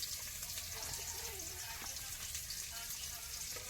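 Dried red chilies, five-spice seeds and chopped onion fry in hot oil for Bengali dal, making a steady close sizzle with faint clinks and no talk.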